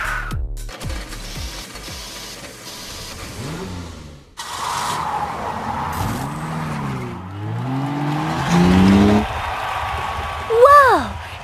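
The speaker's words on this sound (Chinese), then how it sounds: "这是我见过速度最快的怪物卡车，太酷了" Cartoon engine sound effects for a fast toy monster truck, revving and swooping rises and falls in pitch under playful cartoon noises, fairly loud and close, with a burst of acceleration near the end.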